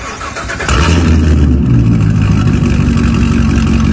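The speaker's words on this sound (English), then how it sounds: "So let's do a cold start." A C7 sports car engine fires up from cold with a loud burst, then holds a high, buzzy, rough idle that stays loud and steady.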